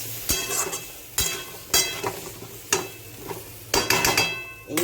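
Vegetables tossed with mustard paste in a pan, a spoon scraping and stirring in several distinct bursts with brief pauses between, over a faint background sizzle.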